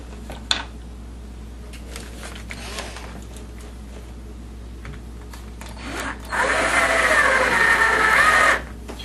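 A power drill drives screws into a MAME arcade cabinet speaker panel, starting with short bursts and then settling into a loud sustained whine with creaking wood before stopping.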